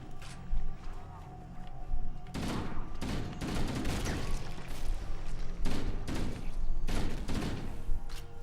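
Gunfire rattling in a Halo CE Anniversary battle against the Flood, with dense bursts of automatic shots and booming blasts across several seconds, loud and close, with faint talk underneath.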